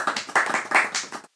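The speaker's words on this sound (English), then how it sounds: "Golf clap." A quick golf clap of about eight light, even hand claps in a close, dry room, stopping abruptly.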